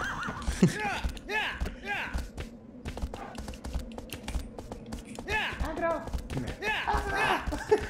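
A horse in the video game Shadow of the Colossus neighs in several loud, wavering whinnies spread across the stretch, mixed with soft clicking and other game sounds.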